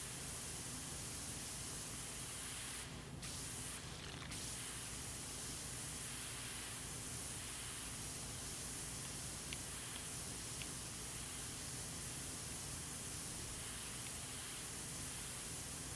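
Steady, dense hiss of a pressure washer spraying through the yellow nozzle in the video game Power Wash Simulator, cleaning a subway platform, continuous and loud with brief interruptions early on.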